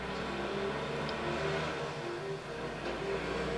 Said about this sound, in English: Do you hear that bus?